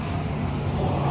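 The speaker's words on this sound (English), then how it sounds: "sorry for the traffic noise" Road traffic rumbles nearby as a car passes, a loud, steady low roar filling the short stretch without speech.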